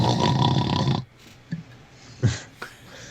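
A person imitates a snore for a bird character in a tabletop role-play game: one loud raspy drawn-out snore, then quiet with a few soft snorts and breaths.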